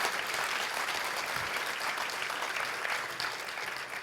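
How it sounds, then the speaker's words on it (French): An audience applauds businesswoman Corinne Molina with steady, even clapping from a crowd at moderate distance that continues without pause for several seconds. "Vous pouvez applaudir Corinne Molina."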